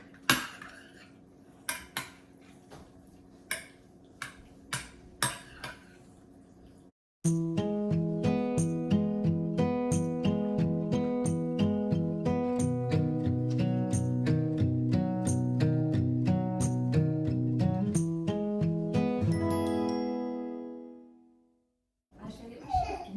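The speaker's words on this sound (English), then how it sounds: "And then we are going to mix all that together." A spoon clanks and scrapes in a pot as canned corn is stirred into a hamburger casserole: a run of separate metallic knocks, then a long, loud, droning, pulsing sound that fades out near the end.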